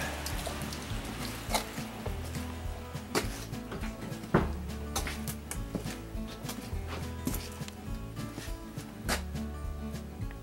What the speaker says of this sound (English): It just ain't gonna stop raining.